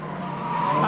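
Formula Ford 2000 race cars at Brands Hatch in 1983 roar past, a loud engine note with rising pitch and tyre noise as the cars close in.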